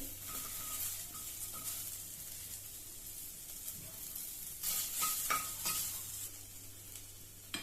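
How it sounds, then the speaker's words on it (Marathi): Onion roasting in a pan with oil, steady sizzling with a spatula scraping and stirring in repeated strokes, growing busier and louder midway, close and with no voices. "त्यामध्येच कांदासुद्धा भाजायचा आहे"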